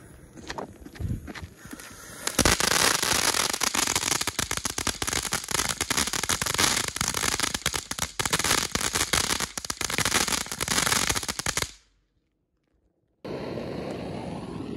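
Fireworks and firecrackers are set off outdoors in a long, dense barrage of loud rapid crackles and bangs, stopping abruptly into silence before noise resumes.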